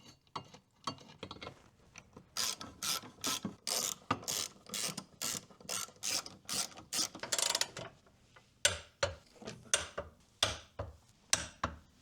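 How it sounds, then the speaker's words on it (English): A jack raises the front of a BMW E46 Touring in bursts of sharp metallic ratcheting clicks, dense at first and then spaced into slower, separate clacks, with a faint mechanical creak between strokes. "now just to jack up the front so that the bushings at the front of the subframe are seated"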